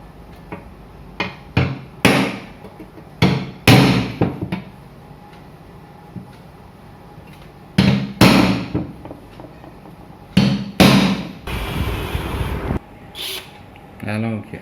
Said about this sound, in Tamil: இதான் வந்து பஞ்ச் ராடு நீங்கள் மார்க் பண்ணிவிட்டு இந்த மாதிரி எல்லாத்துக்கும் வந்து நீங்கள் பஞ்ச் பண்ணிவிட்டு